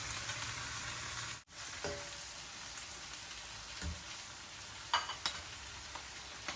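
Broccoli poha cooks in a covered pan over a low simmer, giving a steady soft sizzle and hiss throughout, with a brief gap and a few light clinks near the end, and no voices.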